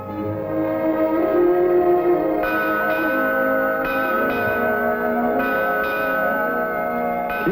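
An old Brixham ship's bell rings out in slow, resonant strikes with long, ringing overtones that overlap and linger, clear and fairly close with no voices.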